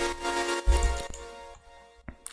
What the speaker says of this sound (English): then we have some chords which sounds like this